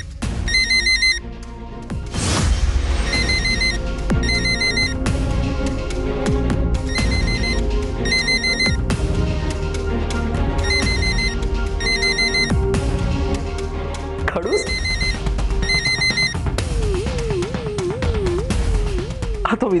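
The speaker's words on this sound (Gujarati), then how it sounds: "વિદિશાનો ફોન છે ને?" A telephone rings repeatedly in a steady, loud pattern of bursts over a backdrop of dramatic background music in a Gujarati TV serial scene, with no speech.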